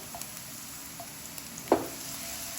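Leftover bitter gourd (karela) chips fry in a little oil, a faint steady sizzle with a few light utensil taps and one brief louder clink near the end, close by and quiet.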